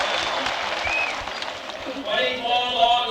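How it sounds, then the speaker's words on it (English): A large crowd at a political rally gives thunderous applause as Senator John F. Kennedy is introduced, a loud continuous roar of clapping with cheers and whistles swelling over it. "Senator Kennedy has been introduced, and as you can hear, the applause is thunderous"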